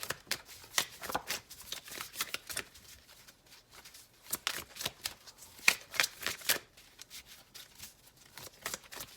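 Tarot cards shuffled by hand, a rapid run of crisp riffling bursts and soft slaps that repeats with brief pauses, close and fairly quiet with no voice.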